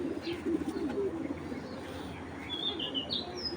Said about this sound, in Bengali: এই দেখেন একদম ফ্রেশ মাশাআল্লাহ গাংচিল কবুতর